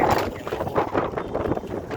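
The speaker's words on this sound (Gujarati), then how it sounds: "મસ્ત ઠંડો ઠંડો પવન છે જોરદાર." Cool wind blowing across an open farm field, a steady rumbling rush with gusty buffeting against the microphone, no voices.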